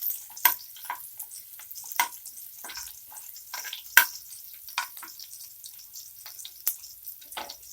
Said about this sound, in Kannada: ಎಣ್ಣೆ ಬಿಸಿ ಆಗಿದೆ. ಈಗ ಸ್ವಲ್ಪ ಈರುಳ್ಳಿ ಸ್ವಲ್ಪ ಫ್ರೈ ಮಾಡ್ಕೊಬೇಕು.